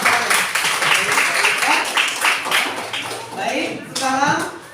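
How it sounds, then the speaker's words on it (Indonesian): Students in a classroom clap for a presenting group, a steady rhythmic run of many hands close by that fills the room, with a few voices breaking in toward the end. "berikan dulu tepuk tangan kepada kelompok 5"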